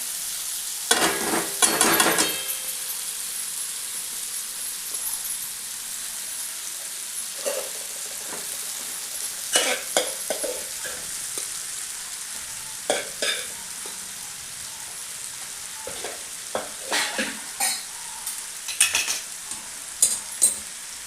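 Leftover cooked rice and sautéed vegetables stirred in a pan, a soft continuous sizzle broken by repeated bursts of spatula scraping and clinks against the metal, no talking.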